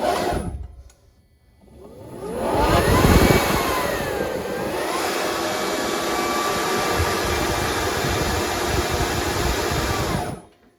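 A converted Gator EV utility vehicle's electric motor spins up under throttle, a rising whine that settles into a steady, loud hum lasting several seconds before cutting off.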